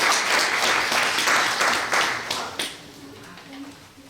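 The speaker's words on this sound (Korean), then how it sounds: "박수로 맞이하겠습니다." A church congregation at an ordination service applauds in a dense burst of clapping that fades away, leaving quieter room sound and a voice beginning to speak.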